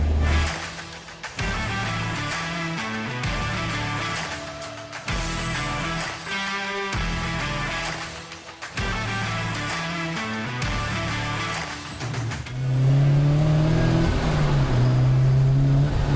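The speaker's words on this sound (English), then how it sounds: "the best part about it is just that induction noise" A Mazda RX5 with a new turbo accelerating hard, engine roaring through repeated gear pulls with brief dips between shifts and a strong induction whoosh, ending in a loud sustained high rev.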